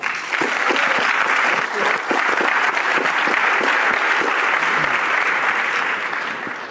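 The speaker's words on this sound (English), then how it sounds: "So let's give a round of applause for Megan." Loud, dense applause from a large audience, continuous clapping that holds steady for several seconds before tapering slightly at the end.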